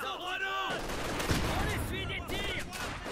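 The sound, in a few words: rifle grenade fired in Company of Heroes 2 video game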